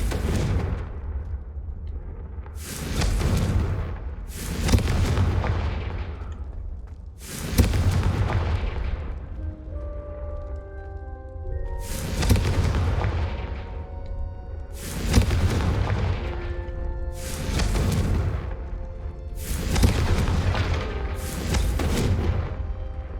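Confringo fire-spell blasts in Hogwarts Legacy go off as about eight loud, punchy explosions in quick succession, each a sharp boom with a rumbling tail, over a constant low battle din.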